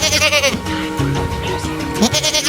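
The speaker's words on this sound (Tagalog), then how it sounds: "Kambing." Goat bleating loudly and close, a few wavering calls repeated over background music with a voice briefly present.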